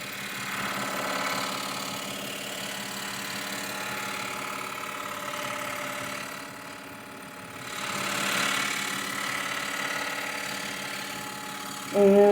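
Scroll saw cutting through a double stack of 1/2-inch butternut glued to 1 inch thick, a steady buzzing motor hum that swells and dips slightly as the blade works, fairly close and continuous without talk.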